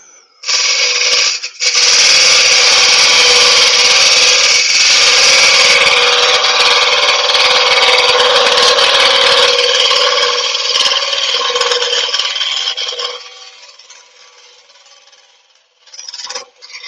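A wood lathe spins a workpiece under a Robert Sorby scraper with the tool rest moved out, giving a loud steady scraping whine and rumble for about twelve seconds that fades as the cut ends, with a short burst near the close.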